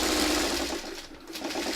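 Sewing machine stitching a blue placemat, its motor running in a steady, continuous close-up whir for the whole stretch, with a brief dip partway through as the fabric is turned.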